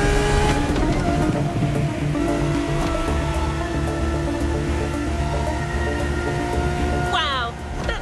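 Lamborghini racing in The Crew Motorfest, a loud sustained engine drone with tyre and road roar that holds steady throughout, with a voice talking over it.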